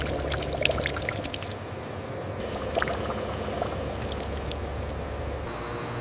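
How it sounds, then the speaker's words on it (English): Banana puree pouring from a large machine in a bread and cake factory, a steady wet trickling and splashing flow with scattered drips over a constant mechanical hum, close by and without speech. "The freshly made banana puree flows steadily, collected for the next stage of bread production."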